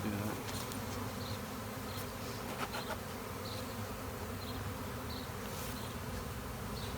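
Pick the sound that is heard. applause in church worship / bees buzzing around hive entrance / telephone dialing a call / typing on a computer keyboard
bees buzzing around hive entrance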